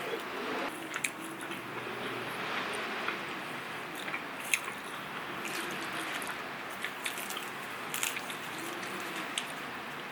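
Someone eats a calzone dipped in sauce, close-up soft bites and wet chewing sounds, set against steady outdoor ambience with occasional faint bird calls and no speech.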